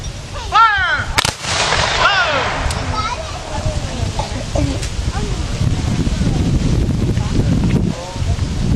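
Federal infantry musket volley fired during a Civil War battle demonstration of the Battle of the Crater: a loud, sharp crack near the start amid shouted commands, followed by wind buffeting the microphone and a crowd murmuring outdoors.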